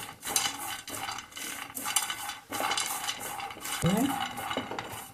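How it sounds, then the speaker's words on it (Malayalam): Peanuts roast in a pan on the stove, tossed and stirred with a spatula in repeated bursts of close, rattling scrapes against metal, with only a faint sizzle and no talking. "ഈ പാനിലേക്ക് കുറച്ച് ഇത് നിലക്കടല ഇതൊന്ന് നമുക്ക് വറക്കണം വറുത്തെടുക്കണം"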